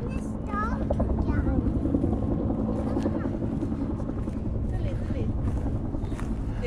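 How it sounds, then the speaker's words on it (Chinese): A helicopter flies overhead, its low steady rotor drone continuous throughout, with a person talking over it outdoors. "这上面有个直升机"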